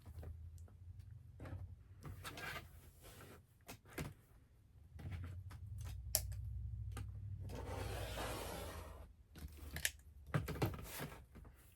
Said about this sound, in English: I'm going to use my rotary cutter to cut on that diagonal line